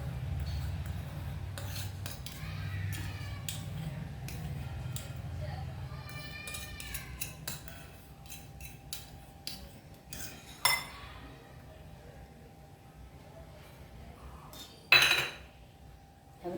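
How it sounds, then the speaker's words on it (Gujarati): Malai cream being stirred into a semolina bread pudding batter in a metal pot, with repeated spoon scrapes and clinks against the pan and a louder clank near the end, under low background hum. "આવી રીતે આને મિક્સ કરી દેવાની"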